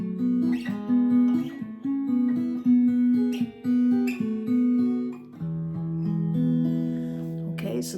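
Guitar riff built from two-finger partial chords, played close and clean as short repeated chord stabs and ringing notes, with the phrase shifting lower near the end; no talking.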